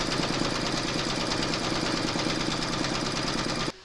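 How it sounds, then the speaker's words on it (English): Embroidery machine in a hoop stitching a trapunto sunflower design: a steady, close, rapid mechanical chatter that runs evenly for nearly four seconds and then stops abruptly. "Pop your hoop into your machine and stitch round number 2."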